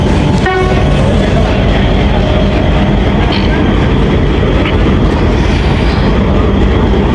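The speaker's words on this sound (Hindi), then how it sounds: "पाँच 5:25 पर डिपार्चर हो रहा है 12 डाउन हज़ारा एक्सप्रेस" The 12 Down Hazara Express pulling out of a station with new coaches, a loud, continuous heavy rumble of wheels and rolling stock up close, a short horn blast near the start and faint voices in the background.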